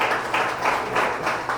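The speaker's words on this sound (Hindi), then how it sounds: "तो हम जोरदार ताली देंगे दया शंकर जी के लिए" A church congregation at a Sunday prayer service claps loudly together, a dense, steady wash of applause with slight swells, filling the room without pause.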